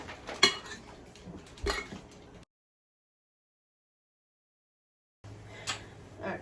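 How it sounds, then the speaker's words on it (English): Potatoes mixed and coated in a bowl for Scandinavian steak and potatoes, with clattering knocks of utensil against dish, a couple of sharper clinks, then a silent gap before the scraping resumes. "So now we're going to mix up the potatoes. We're going to coat them."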